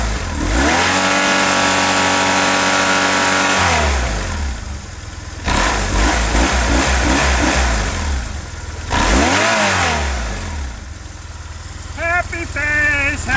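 A motorcycle engine starts after a throttle body synchronization and runs loud and close. It revs up and settles back several times with rising and falling engine tones, and there is no speech.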